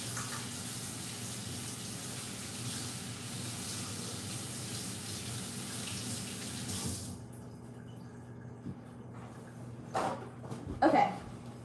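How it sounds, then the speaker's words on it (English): Tap water running steadily as hands are rinsed in a home kitchen while making breakfast, a close continuous splashing stream that stops abruptly, followed by a few faint clinks and knocks. "So I'm going to wash my hands."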